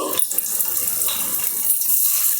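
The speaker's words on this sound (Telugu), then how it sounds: "ఉప్పు చేపలు అయితే వేసుకుందాము ఆయిల్ వేడెక్కింది" Salted dried fish frying in hot oil for a dried-fish curry, giving a dense, steady sizzle and hiss that runs without a break, close and fairly loud, with no talking.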